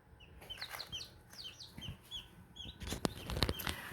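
Young chicks on a family farm peep and cluck in quick, repeated high chirps close by, a scattered chorus with a few louder bumps near the end.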